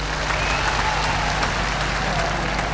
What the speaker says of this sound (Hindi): आप लोगों ने तालियों से मेरी बात का स्वागत किया है।